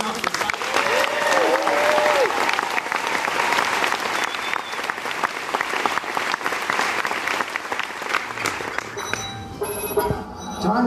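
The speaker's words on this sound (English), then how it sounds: "Perhaps we'd like to test the applause sound again." A live studio audience at a science-skeptic talk event breaks into sustained loud applause with cheering, dense clapping throughout, then tapering near the end while a voice speaks over it.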